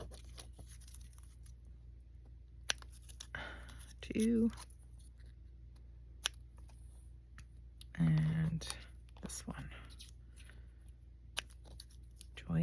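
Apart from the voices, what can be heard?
cutting paper with large scissors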